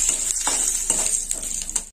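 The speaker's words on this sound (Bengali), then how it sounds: "ফোড়নটা একটু ভালো করে ভাজা হবে।" Dried red chillies, bay leaf and whole cumin fry in hot oil as a tempering, giving a steady bright sizzle broken by several scraping stirs of a spoon in the pan, close and continuous, with no speech.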